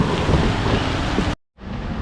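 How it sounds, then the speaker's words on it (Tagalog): Heavy rain roars in a dense, constant wash with low thunder-like rumbling, cut off abruptly by a brief silence before the downpour resumes slightly softer. "Habang pinapahinto namin yung ulan"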